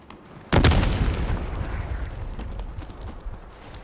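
A frag grenade detonates once in Call of Duty: Black Ops 6 multiplayer, a sudden loud boom with a long rumbling tail that fades over several seconds, heard alone without talk.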